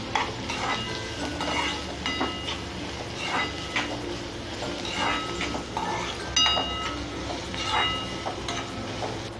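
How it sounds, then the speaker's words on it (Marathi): Onion frying in a pan until browned, a steady moderate sizzle with periodic scraping and stirring strokes and faint metallic clinks, close by and without speech. "हा कांदा आपण चांगला परतून घेऊया लाल होईपर्यंत"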